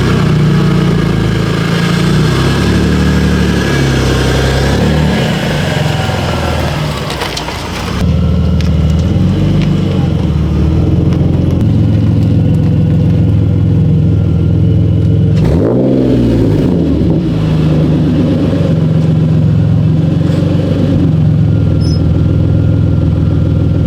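A BMW E46 330Ci turns around in a driveway, its engine holding a loud, steady low drone close by, with a short crunching noise partway through.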